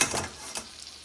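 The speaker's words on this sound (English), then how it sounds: "I'm pan frying hamburgers." Hamburgers sizzle steadily in a hot frying pan, a soft hissing crackle with a brief scrape of a utensil.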